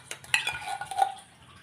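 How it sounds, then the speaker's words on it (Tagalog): Century tuna in its olive oil is mixed into a pechay baguio salad, giving a few quick clinks of utensil against bowl and a short soft scrape, close and brief with no talk. "ihahalo ko na tong century tuna dito"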